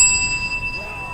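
A bell in Halo 3 strikes once at the start, its bright ringing tones sustaining and slowly fading over a low background murmur.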